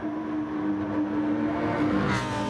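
Race car engine in a racing video game at Daytona drones at a steady high pitch and builds as it accelerates, loud and continuous with no talking.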